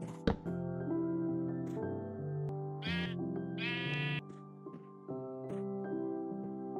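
Sheep in the Minecraft video game bleat several times in a row, each call a wavering, pitched tone. Background game music plays and nobody talks.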